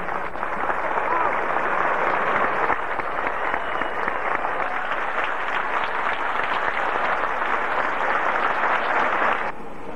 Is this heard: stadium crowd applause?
yes